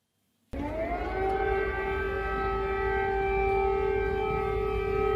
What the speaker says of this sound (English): Air raid sirens have sounded in Kiev this morning